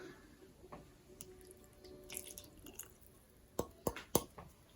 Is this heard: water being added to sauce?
yes